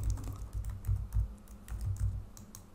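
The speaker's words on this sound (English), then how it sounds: "And now I'll just type Instagram logo" Rapid, irregular key clicks on a computer keyboard as a search phrase is typed, close and steady with brief pauses between bursts.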